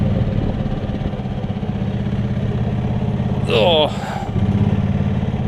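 A Yamaha golf cart engine needing carburetor cleaning and fuel-mix tuning runs close by with a rough, uneven idle and sputtering putter; someone talks over it and the engine briefly revs up near the end.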